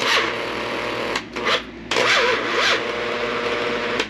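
A 40-year-old Black & Decker drill, failing and smoking, whines in loud grinding bursts. The motor pitch wavers and sags, with short gaps between runs.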